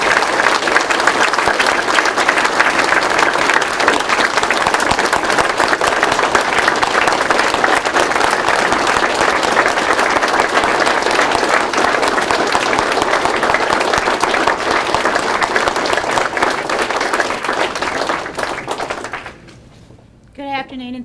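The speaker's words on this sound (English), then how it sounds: "please give another round of applause to Mr." Sustained audience applause at a French Legion of Honor ceremony for a WWII veteran in Cobb County, a dense wash of many hands clapping for about twenty seconds before fading out abruptly, with scattered voices in the crowd.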